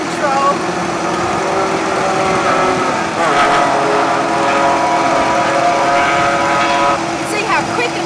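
The bed of a Futura car trailer rises under remote control, with a loud, steady mechanical whirring hum that holds close and constant throughout.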